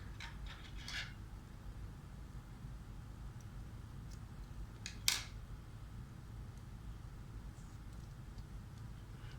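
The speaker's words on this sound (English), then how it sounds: "then we'll snip off this yarn" A single crisp snip of scissors cutting crochet yarn near the midpoint, close and brief, with a fainter click earlier over a low steady room hum.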